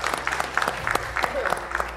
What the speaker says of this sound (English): Somebody should clap for this.